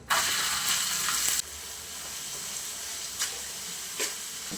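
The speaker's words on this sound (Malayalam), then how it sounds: "എണ്ണ ചൂടായി വന്നിട്ടുണ്ട് ഇതിലേക്ക് ചെറുതായി മുറിച്ച് വെച്ചിരിക്കുന്ന സവാള ചേർത്ത് കൊടുക്കാം" Finely chopped onions drop into hot oil with a loud, bright sizzle. After a second it settles into a steady, quieter frying hiss, broken by a couple of brief stirring scrapes.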